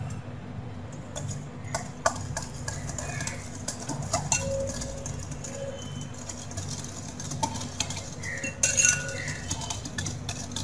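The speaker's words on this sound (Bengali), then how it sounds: "তেল এবং পাউডার সুগারটা ভালোভাবে মিশিয়ে নেব।" Oil and powdered sugar being stirred together for biscuit dough, heard as light scraping and clinking of a utensil against a bowl, fairly quiet and steady for about ten seconds, with a brief louder clink near the end.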